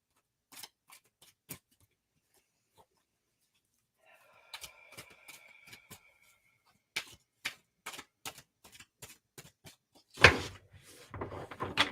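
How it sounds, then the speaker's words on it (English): Tarot cards being shuffled at close range, a run of sharp, crisp riffle clicks and snaps near the end of the clip, with scattered softer taps, a brief low hum and a quiet stretch before it. "That was a sloppy shuffle."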